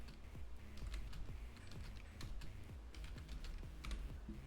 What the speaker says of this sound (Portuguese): Você digitar aqui manualmente